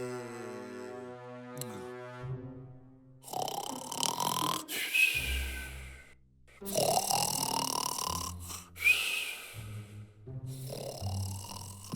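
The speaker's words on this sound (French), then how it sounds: "le loup s'endormit et se mit à ronfler" Long, deep snores drawn out in slow, heavy cycles, close and fairly loud, after a brief musical opening.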